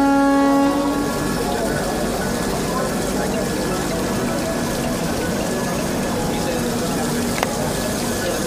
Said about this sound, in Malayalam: ഇപ്പോൾ കിടക്കുന്ന ഈ തീവണ്ടി ചലിച്ചു തുടങ്ങിയിരിക്കുന്നു.